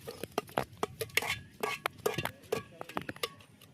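Ragi flour being stirred into a mixture, a series of close clinks and scrapes of a spoon against a metal pot in an uneven rhythm, with faint voice traces in the background.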